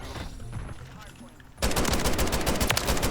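Battle rifle fire in Call of Duty MWIII bursts out in a rapid, loud string of shots after a quieter stretch of game sound, with a voice talking briefly in the clip.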